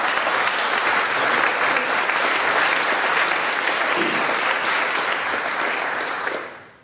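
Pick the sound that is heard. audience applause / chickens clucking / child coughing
audience applause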